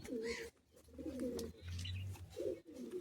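Pigeons in a pigeon loft give soft, low cooing calls in several short phrases, close by and alone with no talk.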